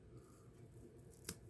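One sharp snip of scissors trimming spun deer belly hair on a fly, close and clear over faint background hush.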